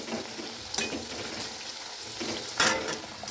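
Kachoris are lowered one by one into hot oil over a low-medium flame, giving a soft steady sizzle with a couple of brief louder splashes and clinks as pieces go in.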